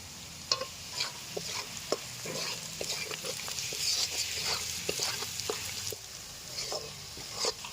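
Green chillies fry in a pan with vegetables, giving a low, steady sizzle broken by repeated clicks and scrapes as a utensil stirs them. The sounds are close and moderately quiet, with no one speaking.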